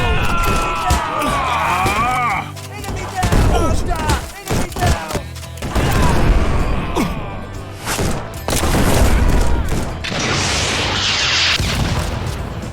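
Dynamite crossbow blasts and gunfire in Red Dead Redemption 2 VR, a chaotic run of booms and shots layered under excited talk throughout.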